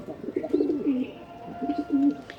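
Pigeons cooing in soft, repeated rolling calls, close by at their nest, with a faint background hum.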